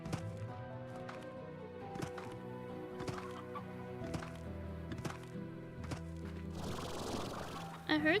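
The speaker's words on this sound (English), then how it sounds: "I heard chickens." Chickens cluck in the video game Slime Rancher, soft repeated clucks and clip-clop-like taps at a steady pace under game music, with a person talking over them.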